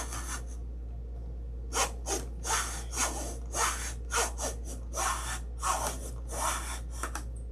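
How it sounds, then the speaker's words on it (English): Sanding on a wooden prop: a steady series of rasping back-and-forth strokes, about a dozen evenly paced rubs, close and clear with no talking. "We'll cut between that line there and sand it."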